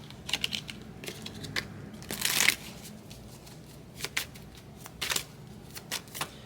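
Tarot cards are shuffled close by in quick riffling bursts, soft rapid flutters with a few stronger riffs, fairly quiet and without talk.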